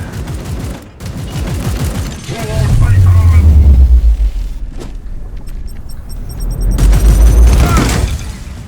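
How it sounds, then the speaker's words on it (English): Grenade blast in a Warhammer 40K battle game, a loud deep boom that rumbles and swells for several seconds amid other combat effects, with a voice talking over it. "So I'm gonna disrupt it with a grenade."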